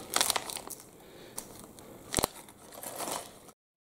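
Plastic bag from a LEGO Minifigure Series 24 pack crinkling and crackling up close, with irregular crisp rustles and one sharper crunch, no talking.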